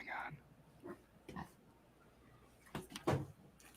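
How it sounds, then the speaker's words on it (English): A pig oinks in the background in several short grunting bursts, faint and intermittent, mixed in with people talking nearby. "You hear a pig in the background."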